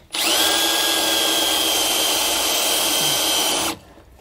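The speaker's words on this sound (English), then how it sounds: "we'll go ahead and take our drill bits here and drill out the holes" A power drill with a 1/2 inch bit bores out the holes in a sway bar bracket while fitting a Roadmaster rear anti-sway bar on a 2009 Workhorse W-Series. The loud, steady whine runs without a break for about three and a half seconds and then stops abruptly.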